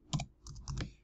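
Typing on a computer keyboard: a few quick, soft key clicks in a short burst, close and faint, with no talk.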